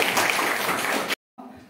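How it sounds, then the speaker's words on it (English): An audience at an anthropology departmental seminar claps in a dense burst of applause lasting just over a second, then stops abruptly, leaving quiet room sound. "So give a big round of applause for them."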